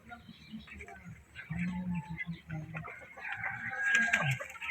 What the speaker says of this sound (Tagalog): Dito tayo sa Rhode Island Red.